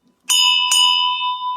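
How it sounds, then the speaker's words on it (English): A hand bell rung at a children's storytime gives two clear, bright strikes in quick succession, loud and close, its metallic ring sustaining and slowly fading afterward. "Peter can ring the bell"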